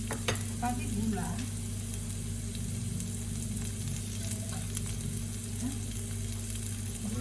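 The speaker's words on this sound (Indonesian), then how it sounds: "sementara kita menggoreng si bawang ya" Garlic fries in a pan with a steady, close crackling sizzle, broken by occasional stirring scrapes, while a voice speaks briefly and softly.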